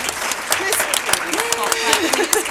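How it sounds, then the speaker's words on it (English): Applause from a crowd at an environmental action summit, a dense patter of clapping with a voice speaking faintly over it. "Round of applause for your 4 leaders,"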